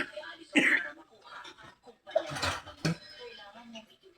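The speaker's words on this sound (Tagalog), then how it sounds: "inuubo kasi ako guys." A person coughs a few times, harsh close bursts mixed in with conversational speech nearby.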